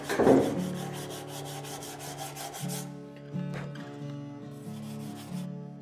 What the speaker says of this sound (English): Let's have a look with the board sander again.